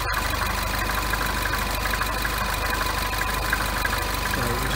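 A silver Toyota FJ Cruiser engine idles steadily after start-up, a close, even low rumble that holds alone without change throughout.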